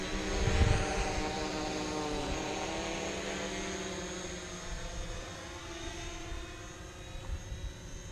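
A drone flies over an orchard with a steady high-pitched propeller whine, slowly shifting in pitch as it moves, fairly faint against a soft background rush.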